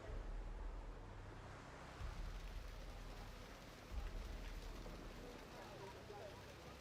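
Steady rain hissing in the Jurassic World Evolution dinosaur park game, a dense constant wash with low rumbling swells, moderately loud and unbroken.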